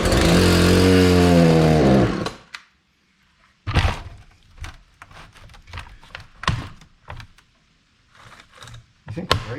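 A Husqvarna 240 chainsaw, which won't stay running, buzzes loudly for about two seconds after choking, then cuts out, followed by scattered knocks, clunks and handling noises nearby.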